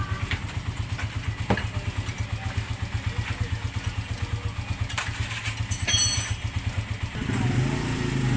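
A freshly overhauled Yamaha Crypton underbone motorcycle engine runs with a fast, even putter and a mechanical clatter, close and steady, with a short rise in revs near the end.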